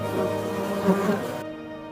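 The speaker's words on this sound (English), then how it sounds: "Bees are essential partners, visiting millions of flowers during the bloom." A close, steady buzz of bees among orange tree blossoms, a droning hum holding even for under two seconds before cutting off abruptly.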